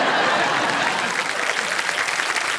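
Studio audience applause on a television quiz game show, a loud, dense burst of clapping that continues evenly for a few seconds with no clear speech on top.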